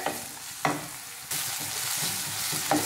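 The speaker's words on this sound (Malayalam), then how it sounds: "ഇനി ഇത് നല്ലപോലെ തന്നെ ഒന്ന് ഇളക്കി കൊടുക്കാം കേട്ടോ. ഇനി സവാള ഒന്ന് സോഫ്റ്റ് ആയിട്ട് വരട്ടെ." Salted onions are stirred as they soften in a pan, a close hissing sizzle broken by a few sharp scrapes of the spoon against the pan, with no voices.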